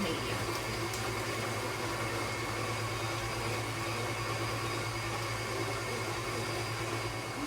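An electric mixer beats focaccia dough for garlic and parmesan bread at medium speed, giving a steady, continuous motor whir with a low hum that stays even and unbroken throughout.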